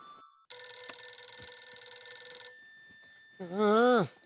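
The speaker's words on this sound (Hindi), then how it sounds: "फोन की घंटी बज रही है" A telephone bell rings steadily for about two seconds, then after a pause a person speaks briefly, close and loud.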